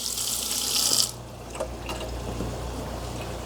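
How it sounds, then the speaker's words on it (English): A kitchen tap runs loudly for about a second as a spoon is rinsed under it, then cuts off, leaving soft clinks and quiet room noise. "I'm going to wash the spoon and taste it again."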